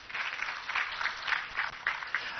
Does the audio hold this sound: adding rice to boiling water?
no